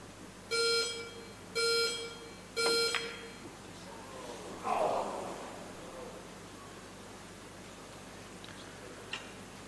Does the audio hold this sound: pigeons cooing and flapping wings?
no